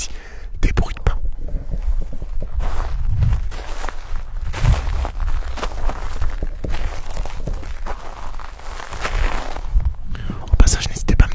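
Footsteps recorded for ASMR, crunching and shuffling close to the microphone in a steady walking rhythm, with soft whispering running throughout.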